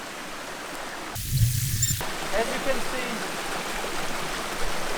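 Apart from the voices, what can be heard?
river stream flowing on a trial motorbike section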